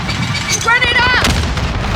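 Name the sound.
grenade explosion in video game Call of Duty Modern Warfare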